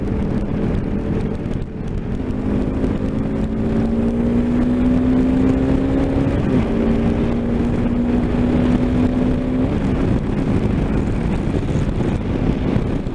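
A Honda CRF300 Rally motorcycle engine holds a high, steady drone in top gear at about 6,500 rpm while riding at speed, with a clear rising whine that dips briefly and continues under constant wind rush.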